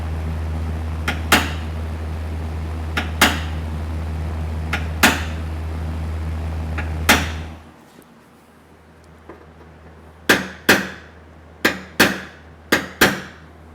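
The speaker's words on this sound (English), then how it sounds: "I'm going to lower these 3 spots with my punch and hammer." A metal punch struck with a hammer taps down low spots in body filler on a car dent repair, sharp isolated clicks spaced about two seconds apart, then a quicker run of taps after a hum stops.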